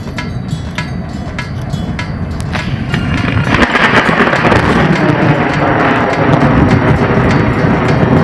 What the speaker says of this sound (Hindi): बादल गरजने लगे।